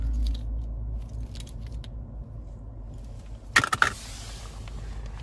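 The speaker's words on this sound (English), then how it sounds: "here's our key fob." Key fob of a 2012 Lexus LS 460 AWD sedan jangling briefly, a short metallic rattle near the end over a steady low rumble of the car interior.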